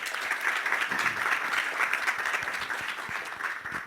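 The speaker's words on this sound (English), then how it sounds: "So let's give them a round of applause" An audience at a university Three Minute Thesis final round applauds the competitors, a dense, even roar of many hands clapping together without pause.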